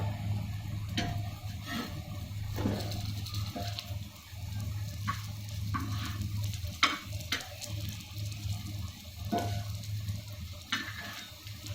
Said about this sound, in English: It should be fried in sim.